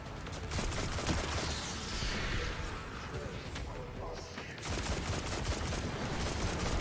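Rapid gunfire in Destiny 2 rattles in dense volleys through most of the clip, eases briefly, then picks up again, with faint talking underneath.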